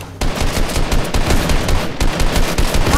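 Rapid automatic gunfire in the video game Fortnite, a dense, loud continuous burst of shots running almost the whole time after a brief quiet start.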